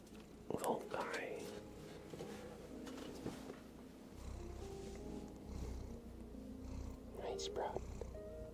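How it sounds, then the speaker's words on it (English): Sprout, a small cat, purrs softly and close up while a person whispers over him in a quiet room, the low rumble running steadily beneath the hushed voice. "do you hear him purring?"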